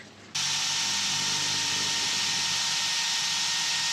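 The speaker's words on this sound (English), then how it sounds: "I have to drill the holes so I don't put holes in my tights." A power drill bores holes in a plastic inlet pipe for a self-watering wicking garden bed, starting abruptly and running as a loud, steady high-pitched whir with no pauses.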